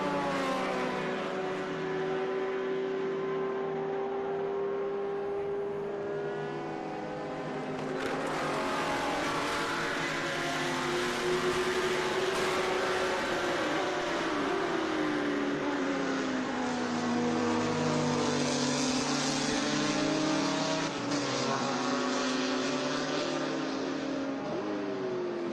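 Formula race cars lap the Watkins Glen circuit, among them an RF99Z and an F2000, their engines whining steadily with pitch shifts as cars pass and accelerate, a continuous loud drone throughout.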